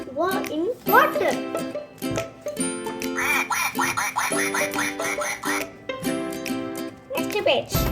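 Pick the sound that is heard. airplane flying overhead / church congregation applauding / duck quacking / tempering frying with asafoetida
duck quacking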